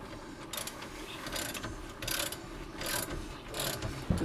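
Ratchet wrench clicking in short bursts while loosening the main bolts on a 2005 GM 4T65-E transmission during replacement, close and fairly quiet, with pauses between strokes.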